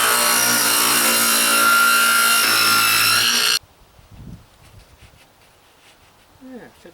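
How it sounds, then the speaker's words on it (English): A power saw cuts a dado into wooden side pieces for a garden box's glass panel lid. It gives a loud, steady whine for about three and a half seconds, then stops abruptly, followed by quiet handling noises. "I'm going to dado the side pieces the same as I did with the end pieces."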